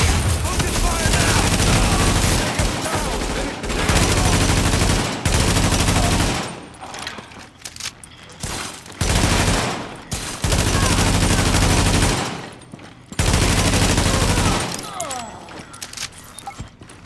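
A heavy firefight in The Division, with dense, continuous bursts of automatic gunfire that break off and then resume, loud and close.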